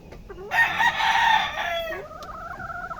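A fighting cock rooster gives a single loud, close crow lasting over a second, followed by a softer trailing call and a brief cluck in a backyard setting.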